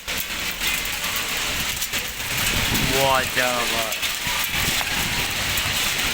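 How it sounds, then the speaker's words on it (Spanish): Hail rattling down hard in a storm in Logroño, Spain, a dense, continuous clatter, while a man exclaims over it. "Granizo, chaval, están cayendo granizo."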